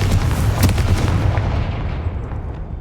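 A Confringo fire-blast spell explodes in Hogwarts Legacy with a heavy, rumbling boom that opens loud and close, then rolls and fades away over a couple of seconds.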